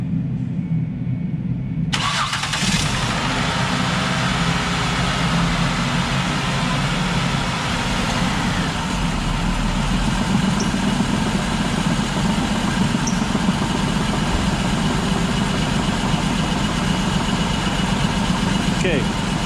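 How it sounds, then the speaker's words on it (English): A 2005 Ford Escape with a 3.0 V6 and a cylinder misfire cranks and catches after a short quiet moment, then settles into a loud, continuous idle close by. "So I'm gonna fire it up, see if the cylinder misfire goes to the front."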